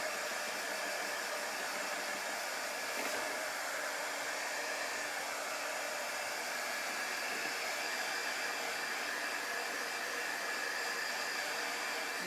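A dryer blows steadily to dry a chalk-painted bunny cut-out craft, one continuous even whoosh held for the whole stretch at moderate loudness, with no talking.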